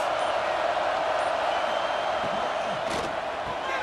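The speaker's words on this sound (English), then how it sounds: "This crowd trying to make life miserable for this offense." A stadium crowd in a college football video game roars steadily and loudly throughout, a constant dense wash of massed voices with no break.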